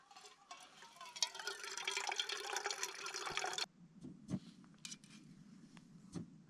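Water filtered into a container during a solo backpacking trip in Sequoia National Park, a steady close trickling pour lasting several seconds, then stopping and leaving a few faint drips and handling noises.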